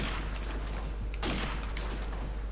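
Gunfire in a video game, a dense burst of overlapping shots with a stronger cluster midway, loud and continuous with no talking.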